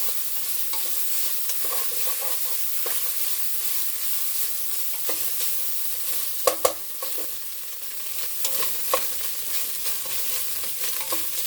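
Ground meat and onions browning in a pan on a stovetop burner set to high, giving a steady loud sizzle throughout with occasional scraping stirs and a couple of sharp clacks from the utensil, no talking.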